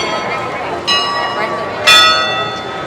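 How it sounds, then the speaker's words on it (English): Bells ring at Magic Kingdom in a busy theme park crowd, two bright metallic strikes about a second apart over a murmur of voices. "See the bells up there."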